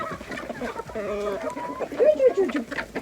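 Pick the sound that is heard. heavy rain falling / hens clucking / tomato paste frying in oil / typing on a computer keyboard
hens clucking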